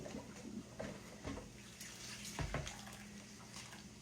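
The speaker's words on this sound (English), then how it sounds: "I'm going to put your colander in your sink. And drain them." Cooked squash drained through a colander in a kitchen sink gives a soft, steady splash and trickle of water, faint and close, with a few louder gurgles and thuds as the pile settles.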